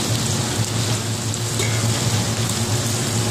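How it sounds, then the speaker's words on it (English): Vegetables and ham saute in a hot pan, giving off a loud, steady sizzle and crackle like rain on a surface that carries on unbroken throughout. "just saute your vegetables and your ham"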